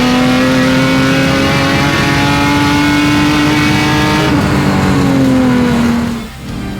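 Car pushing hard on a track lap, a loud close engine drone climbing steadily in pitch, then dropping off sharply near the end as the throttle lifts.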